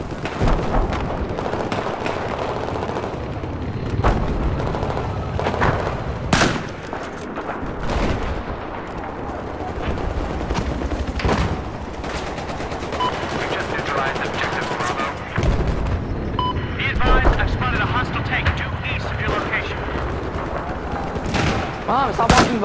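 Gunfire in Battlefield 4, with bursts of machine-gun fire and scattered single shots punching through a busy battlefield din, some close and loud, others farther off, while players talk over it.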